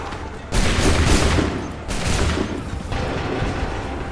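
Massed musket volleys in Assassin's Creed III roar as dense, loud bursts of gunfire, three waves overlapping in a continuous rumbling fusillade.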